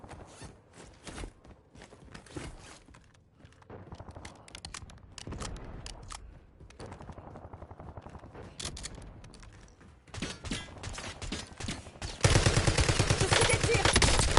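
Gunfire in the video game Warzone, with bursts of shots and footsteps under an ongoing mix that ends in a dense, loud stretch of rapid fire.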